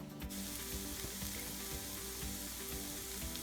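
Onions frying in a pan for a taco bowl give a steady, moderately quiet sizzle that runs unbroken throughout, with a few soft stirring knocks and no one speaking.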